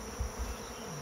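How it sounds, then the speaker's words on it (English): Honey bee swarm buzzing in a steady, dense drone, moderately loud and continuous with no talk, the hum swelling slightly as bees pass near. "that little tornado of bees you see right now is a swarm"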